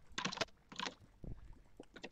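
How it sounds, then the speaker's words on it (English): Quick bursts of typing on a computer keyboard, two clusters of rapid keystrokes followed by a few lighter taps, close and fairly quiet in an otherwise still room. "We can hear you typing."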